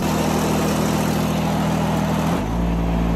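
An older riding mower's engine idles loudly and steadily outdoors, a deep continuous rumble that drops to a lower, rougher pitch near the end.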